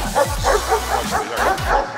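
Dogs in National Guard kennel enclosures bark and yip in quick overlapping bursts, close and loud, with a brief whimpering tone among the barks.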